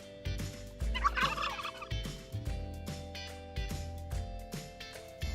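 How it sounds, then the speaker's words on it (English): A toy turkey from a barn playset lets out a series of rapid electronic gobbles, close and clear, repeating in quick bursts with no talking. "Here's our colorful turkey."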